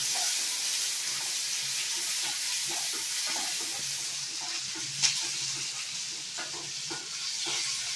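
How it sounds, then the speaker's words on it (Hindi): Finely chopped onions frying with roasted eggplant for baingan bharta over high heat, a steady close sizzle broken by soft stirring scrapes and one sharper clink midway. "बारीक कटे हुए प्याज को हम डाल देंगे। अब इसे भी अच्छी तरह से हमें भूनना है।"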